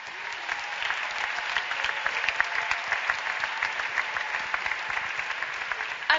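Applause at a prayer and worship vigil, a sustained crowd clapping with fairly even intensity for several seconds.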